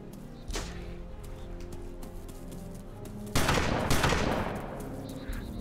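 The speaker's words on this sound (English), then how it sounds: "Who's firing a shotgun?" Shotgun fire in the survival video game DayZ: a single muffled blast early on, then a louder, booming shot with a lingering tail a few seconds later, set against a low background hum.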